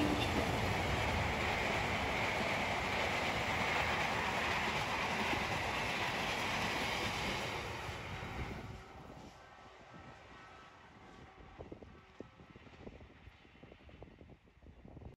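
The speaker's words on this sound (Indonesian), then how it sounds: "Ada kereta dari arah utara teman, dari jalur 1." A train pulling panoramic coaches rumbles past close by on track 1 from the north, loud broadband roar for about eight seconds, then fades into quieter clattering and rattles as it moves away.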